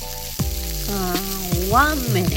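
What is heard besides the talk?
tempura sizzling while deep frying in oil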